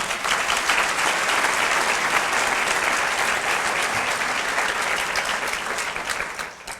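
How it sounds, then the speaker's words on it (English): An audience at a county Teachers of the Year ceremony gives a sustained round of applause, dense steady clapping heard alone that fades slightly near the end. "please give her another round of applause"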